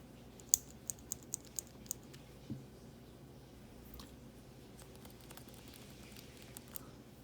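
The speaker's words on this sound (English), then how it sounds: "They obviously have a different click type sound." A Parker Jotter pen converted into a mechanical pencil with a Schmidt DSM 2006 mechanism clicks several times in quick succession, sharp and close, followed by fainter handling clicks in a quiet room.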